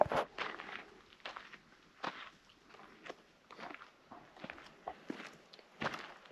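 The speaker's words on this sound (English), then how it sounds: "I have decided to walk to the top of Monemvasia for you to see what it is" Footsteps crunching on rough ground walking uphill at Monemvasia, Greece, a steady uneven rhythm with scuffs and gravelly crackles, close and fairly quiet.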